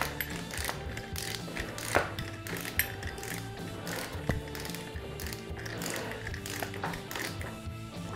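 Ratchet wrench tightening screws on a Honda VFR 1200 motorcycle, quick close clicking pawl ratchets in short bursts with small metallic knocks, quiet and without talk.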